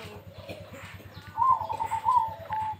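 Zebra dove (perkutut) cooing close by in a series of soft, rounded calls that rise in the second half over a low rhythmic background pulse.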